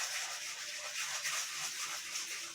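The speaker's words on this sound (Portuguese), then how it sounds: "eu vou entrar com uma lixa mais fina" Fine sandpaper rubbing steadily over a metal casting to smooth away coarse scratches, a close, continuous dry rasping without pauses.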